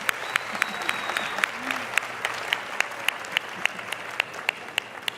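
Applause from a large audience at a beauty pageant preliminary competition, a steady roar of clapping with sharp individual claps standing out near the microphone, continuing throughout.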